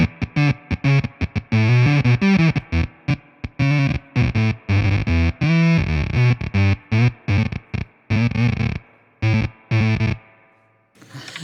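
Guitar played through a fuzz effects pedal with an octave, synth-like tone, loud choppy gated notes in quick rhythmic bursts, ending in a sustained note that fades out.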